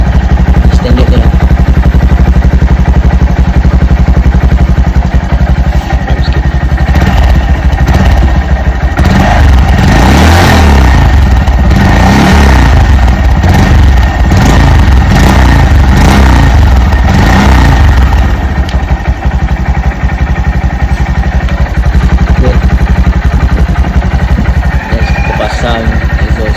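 Honda Monkey 125 motorcycle on its standard exhaust, idling steadily with a run of sharp throttle revs in the middle, close and loud, while voices talk over it.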